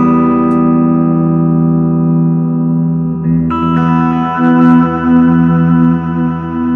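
A sustained electric guitar chord rings with a delay effect from a Blackstar IDX multi-effects floor pedal, repeats layering into a shimmering wash; a second chord joins midway, loud and alone.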